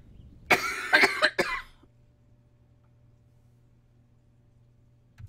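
A woman's coughing fit, several harsh coughs in quick succession over about a second, close and fairly loud, then quiet with a faint steady hum.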